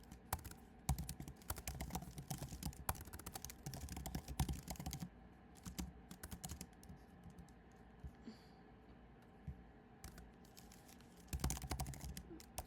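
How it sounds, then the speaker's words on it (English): Typing on a computer keyboard, with quick, uneven bursts of close clicking keys broken by short pauses, fairly quiet and with no talking. "Oh my god, I cannot type."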